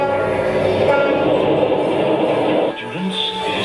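Train in an 80s Teenage Mutant Ninja Turtles cartoon, a loud, steady rumbling rush of rail noise that thins out near the end as a tonal whistle-like sound rises, with no voices over it.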